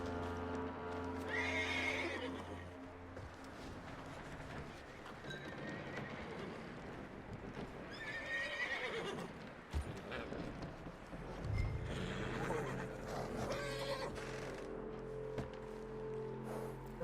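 A horse in the video game Red Dead Redemption 2 whinnies several times amid steady clip-clopping hooves, with low rumbling ambience underneath and no talking.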